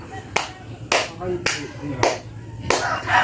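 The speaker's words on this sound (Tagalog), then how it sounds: "Pagbati, 5 palakpak sa nagwagi." Five sharp claps land at a steady, unhurried pace, close and loud, with a murmur of voices underneath.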